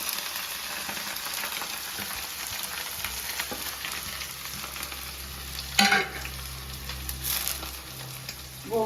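Onions sizzle in hot oil for a gongura mutton curry, with steady frying crackle. A spoon stirs and scrapes the pan in a few louder bursts, close and clear, with no talk.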